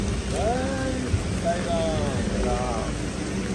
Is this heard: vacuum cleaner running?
no